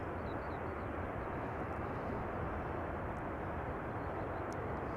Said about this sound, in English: I'm hearing engines being started. Sounds like GE90s or new Air China Cargo A330 in process of pushback.